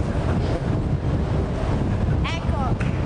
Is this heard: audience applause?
no